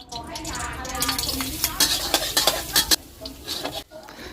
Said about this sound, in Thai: ใส่น้ำมันลงไปสัก 2 ช้อนโต๊ะตามด้วยกระเทียมสับของเราใส่ลงไปได้เลยครับ